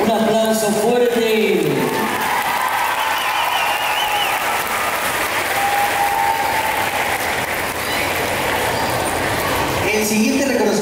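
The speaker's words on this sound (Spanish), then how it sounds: "Un aplauso fuerte para la nueva generación de los valentinos" Audience applause at a medal and awards ceremony for Los Valentinos in Caracas, a loud sustained clapping crowd that fills most of the clip, with a voice speaking at the start and end.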